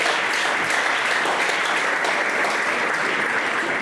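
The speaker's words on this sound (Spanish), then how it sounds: "por favor, apláudele fuerte." Loud, continuous applause from a Spanish-speaking church congregation clapping hard for the King, a thick, even roar of many hands with no break and no voices.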